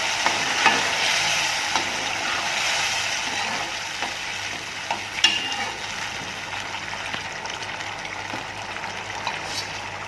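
Jackfruit payasam being stirred in a pot, a continuous bubbling, sizzling hiss with soft scraping strokes of the spoon and occasional light knocks, close and steady, with no speech.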